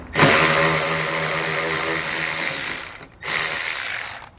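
A hand ratchet loosens T15 trim fasteners on a 2015 GMC Sierra. Rapid clicking comes close and loud in one long run, stops briefly, then returns in a shorter burst, with no talking.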